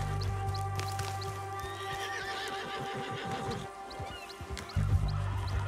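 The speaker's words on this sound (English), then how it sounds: "Multiple horses." Several horses in Red Dead Redemption 2 clop along steadily, with whinnies and neighs rising over the hoofbeats against a low droning game background.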